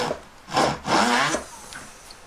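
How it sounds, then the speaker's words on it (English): A sharp drill bit bores into a metal disc in short bursts, two grinding pulses close up in a home workshop, each followed by a pause. "So I'll just drill it a little bit,"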